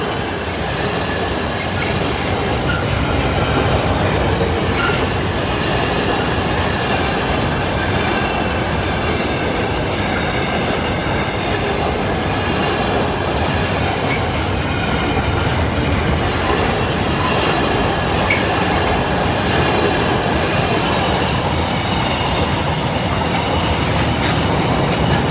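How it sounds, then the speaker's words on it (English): A Freightliner freight train from Leeds to Felixstowe passes the Lincoln High Street level crossing with a loud, continuous rumble of wagons and rhythmic wheel clatter that holds steady throughout. "With the 1415 Freightliner service from Leeds to Felixstowe"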